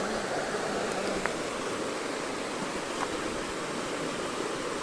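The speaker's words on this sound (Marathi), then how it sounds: "तुम्ही बघू शकता इकडं पाण्याचा ते आवाज तो मेन" An overflowing stream gives a constant broadband rush of water, close and unbroken, with no voices.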